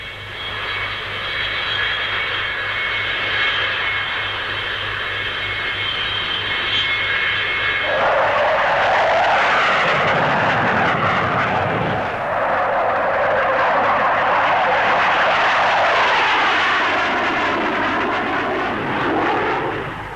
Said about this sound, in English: The Vickers N113 is a single-seat carrier-borne naval fighter bomber.